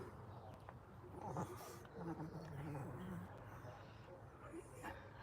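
A dog yips and whimpers indoors in a few faint, brief bursts against low background noise.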